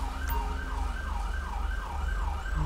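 An ambulance siren in the LSPDFR police mod for a video game wails in steady repeating rising and falling sweeps, loud and continuous over a low engine rumble, with no one speaking.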